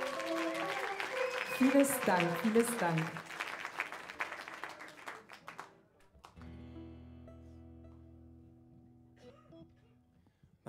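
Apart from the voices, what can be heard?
audience applause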